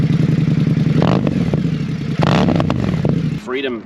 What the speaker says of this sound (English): The S&S slip-ons.